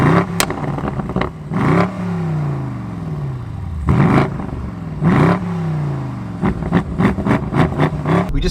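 BMW M850i running launch control, its engine rising in pitch through several hard acceleration pulls with sharp gear-shift breaks between them, loud and close with a steady whooshing cabin roar underneath.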